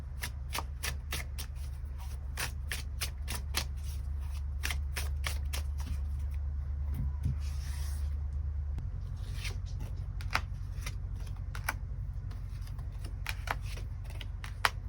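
Tarot cards shuffled by hand in a quick, steady run of crisp flicks and riffles, close up over a low constant background hum, continuing for about fifteen seconds without talking.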